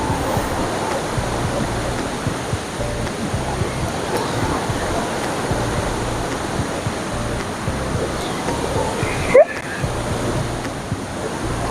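Poler waterfall pours in a continuous, full-bodied roar heard up close, steady throughout, with a sharp brief knock near the end.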